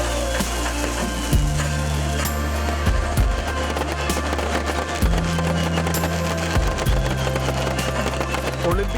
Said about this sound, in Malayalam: തീർത്തും അപകടരഹിതമായ ഡിജിറ്റൽ സാങ്കേതികവിദ്യ ഉപയോഗിച്ചായിരുന്നു വെടിക്കെട്ട്.